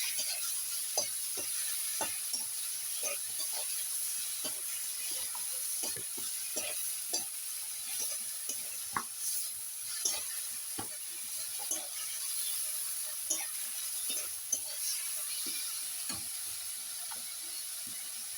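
Green chilli and garlic paste sizzles in a hot pan while being stirred for a desi chicken curry: a steady frying hiss broken by frequent soft scraping stir strokes throughout.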